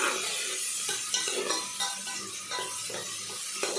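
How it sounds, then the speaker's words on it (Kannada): Ridge gourd sambar masala sizzling in a pan, a constant bright frying hiss with repeated rhythmic scraping of a ladle stirring through it, fairly close, no talking. "ಸ್ಮೆಲ್ ಹೋಗೋವರೆಗೂ ನೀಟಾಗಿ ಫ್ರೈ ಮಾಡ್ಕೋಬೇಕು"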